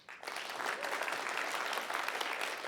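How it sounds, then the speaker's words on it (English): A talk audience breaks into applause, a dense steady wash of clapping from a full room that starts suddenly and holds at even loudness. "By show of applause, so we're ready to clap our hands."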